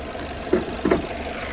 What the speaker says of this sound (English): So the 3 litre in this vehicle is an Iveco engine, so chain driven.